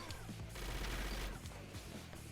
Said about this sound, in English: Yep, machine gun.